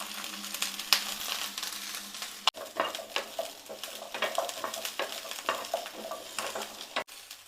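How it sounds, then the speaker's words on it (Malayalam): Shallots, tamarind and curry leaves fry in coconut oil, giving a steady close sizzle broken by the scrape and clack of a spoon stirring the pan, with no voices. "നന്നായിട്ടൊന്ന് ഫ്രൈ ആയി വരട്ടെ"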